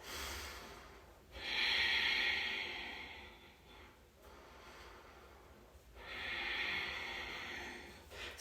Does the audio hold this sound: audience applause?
no